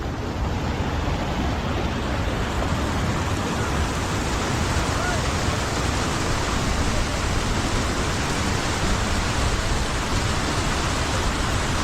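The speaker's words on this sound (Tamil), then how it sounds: "தண்ணி ஓவர் ஆகி இந்த பக்கம் சைடில் வருது" Water overflows the Varathama dam near Palani, a steady, loud, unbroken roar of rushing water that fills the whole stretch without pause.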